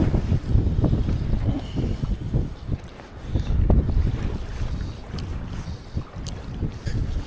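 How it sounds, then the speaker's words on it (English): Strong gusting wind blustering across open water on a pike fly fishing outing, heavy buffeting rumble on the microphone swelling and easing in waves, with no talk. "this wind's really picking up"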